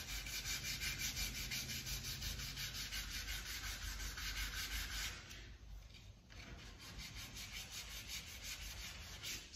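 Primer on a hot rod body is hand-sanded in varying directions, making a continuous close, loud, dry rubbing scrape with a brief pause midway and no talking.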